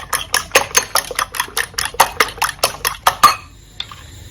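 Rapid, rhythmic clinks of a utensil whisking seasoned eggs in a bowl for egg fried rice, about a dozen strokes, then stopping with a single faint tap after.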